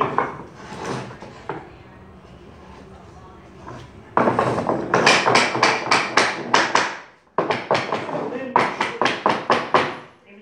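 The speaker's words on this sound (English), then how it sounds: "Tap that in place, grab the hammer" A low murmur gives way to a run of sharp, close hammer taps on wood, tapping a piece into place, landing in quick rhythmic bursts with a brief pause between groups.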